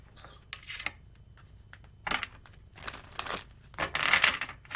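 Tarot cards being shuffled by hand produce soft, irregular papery riffles and rustles in short bursts, close and fairly quiet, with no talking.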